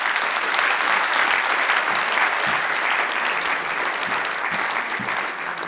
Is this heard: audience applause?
yes